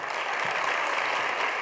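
A studio audience breaks into steady, sustained applause at a French television show, a dense even wash of clapping with no voices heard over it.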